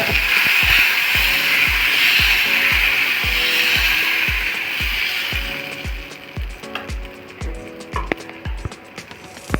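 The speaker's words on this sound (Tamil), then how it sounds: "கல் காஞ்சிருச்சு. இப்போ நம்ம அடையை ஊற்றிடலாம்." Adai dosa batter hits a hot dosa griddle, setting off a loud, steady sizzling hiss that eases after about six seconds, with a regular low thudding beat underneath throughout.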